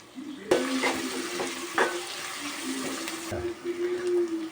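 Curry leaves and mint dropped into hot oil for a Sunday chicken dish burst into a loud, close sizzle that holds steady, with a few sharp crackles and spoon scrapes along the way.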